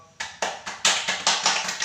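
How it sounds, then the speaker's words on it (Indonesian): Rhythmic clapping from a small classroom group, sharp slaps in a steady beat of about four per second, close and distinct with no talking over it. "Boleh tepuk tangan buat kelompok."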